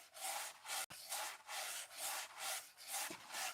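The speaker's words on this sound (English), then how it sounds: "Sounds like a fucking guy sawing with a" A dull, rasping rub like a blunt saw drawn back and forth over wood, repeating in steady strokes about every half second, close and fairly quiet, with no talk.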